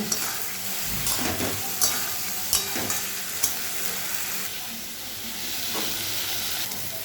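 Pointed gourd and potato pieces frying with spices in a pan, a steady close sizzle with stirring scrapes and a few sharp utensil clinks, no talk.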